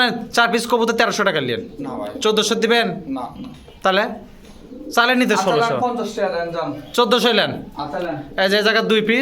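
Pigeons coo at a pigeon market in Bogura, heard steadily beneath close, continuous bargaining voices that dominate the scene.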